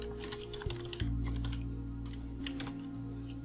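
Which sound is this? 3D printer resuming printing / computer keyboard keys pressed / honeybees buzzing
computer keyboard keys pressed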